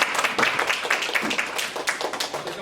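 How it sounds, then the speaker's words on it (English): An audience at an academic forum applauds a presenter's introduction with a burst of scattered clapping, moderately close and carrying on for a couple of seconds before it begins to thin. "Let's applaud."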